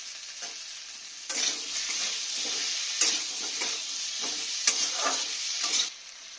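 Chopped tomato hisses and sizzles in a pan with ground chilli, ginger and spices, while a spatula scrapes and stirs in irregular strokes, moderately quiet and close.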